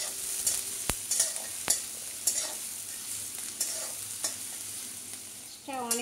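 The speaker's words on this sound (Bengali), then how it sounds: "পেঁয়াজটা নাড়াচাড়া করে একটু ভেজে নেব।" Chopped onion frying in hot oil, a soft steady sizzle broken by repeated sharp scrapes and knocks of a stirring spoon against the pan, close and fairly quiet.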